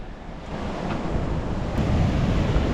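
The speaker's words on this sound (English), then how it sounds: "Oh, the swell's getting massive, man." Heavy ocean swell and surf roll in around tidal sea caves, a continuous rumbling wash that grows louder over a few seconds, mixed with wind buffeting the microphone and no speech.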